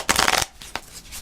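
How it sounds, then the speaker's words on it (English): A deck of cards is shuffled up close, a dense riffling burst followed by a couple of softer flicks and taps. "this deck is always hard to shuffle"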